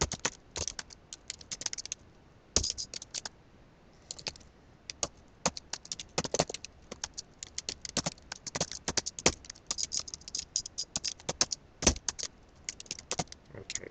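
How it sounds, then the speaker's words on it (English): Loud, clacky laptop keyboard being typed on steadily for the whole stretch, with dense bursts of close keystrokes separated by short pauses and a few heavier thumps, no speech. "if you hear the keys are clacking loudly, that's something I haven't taken the time to correct"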